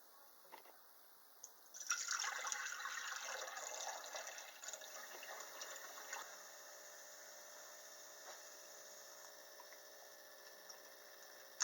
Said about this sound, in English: to empty this flask.